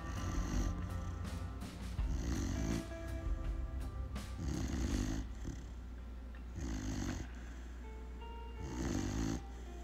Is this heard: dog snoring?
yes